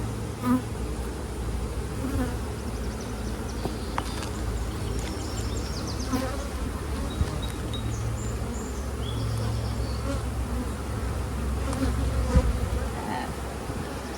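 A dense, steady hum of many honey bees buzzing close by on a hive frame, continuous throughout with slight swells in intensity.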